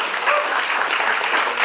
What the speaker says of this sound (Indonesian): Kasih tepuk tangan buat Tuhan kita.